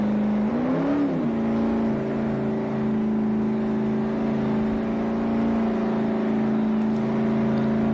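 A big-block 460 cubic inch V8 at a Summernats burnout event, rising briefly in a quick rev, then holding a loud, steady, droning roar with no voices.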